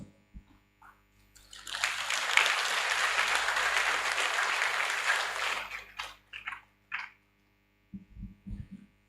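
A burst of audience applause from seated trainees in a hall at a Nigerian Armed Forces resettlement centre. Dense clapping swells for about four seconds, then breaks into a few scattered claps, with brief speech near the end.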